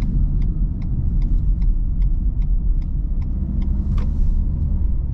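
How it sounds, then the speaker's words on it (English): A 2021 Renault Megane with the 1.3 engine is floored in sport mode on a highway at night. A deep, steady engine and road rumble fills the cabin, with a regular faint ticking over it and no talk. "I'm gonna punch it all the way so you can see how the engine responds"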